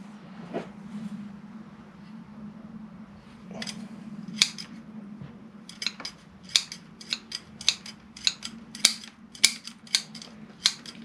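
Scissors snipping the roots of a Japanese trident maple during repotting, a series of crisp close cuts that start sparse and become a quick regular run toward the end, over a low steady background hum.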